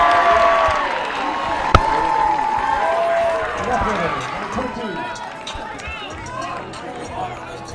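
A high school baseball crowd at a CIF-SS game, Crescenta Valley at Arcadia, chants for ball four. The steady, moderately loud crowd noise and cheering run throughout, with talk over it.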